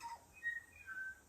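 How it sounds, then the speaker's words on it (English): A tui bird sings a few clear, pure whistled notes at different pitches, soft and somewhat distant against quiet background. "listening to that bird, that tui"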